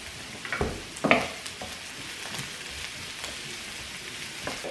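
Beef for pumpkin soup sizzles steadily in a pot, a close crackling hiss with a few louder pops and clinks near the start, no one talking.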